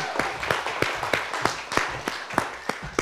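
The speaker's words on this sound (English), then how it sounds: "Let's give a round of applause for Kayden." A small audience at a Taconic Hills gathering applauds Kayden Miller with a steady, evenly spaced run of claps, fairly close and without talk over it.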